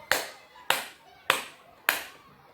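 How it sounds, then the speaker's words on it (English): A primary school class claps four evenly spaced crotchets in time during a music lesson, with sharp, clean claps about six-tenths of a second apart. "I'll count to 4 and we'll clap them"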